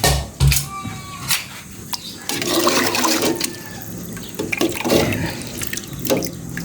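Water pours into a cooking pot in a home kitchen, splashing with a running, tap-like rush after a few sharp knocks, close and moderately loud, with brief bumps and clatter mixed in.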